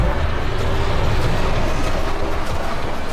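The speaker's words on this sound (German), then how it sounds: "Es ist immer, wenn ein Zug ein- und ausfährt, dass es so laut ist." A train arrives and departs in the video game Galacticare, giving a loud, steady rumbling roar with a faint rhythmic rail clatter that holds at an even level throughout, without any voices.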